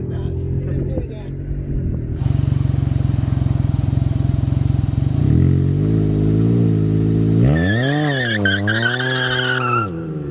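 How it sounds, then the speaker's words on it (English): A Can-Am Ryker three-wheel motorcycle does a short burnout, its engine droning steadily, then stepping up and revving in rising and falling sweeps before easing off, with tire hiss underneath, loud and close. "It's a little mini burnout."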